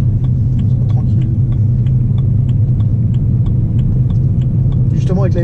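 A BMW M3 E92 drives along with a steady low engine rumble heard from inside the car, continuous and fairly loud, with faint ticking clicks and a brief voice near the end.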